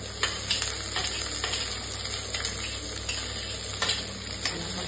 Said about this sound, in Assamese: কেৰাহীত শুকান মাছ ভাজিম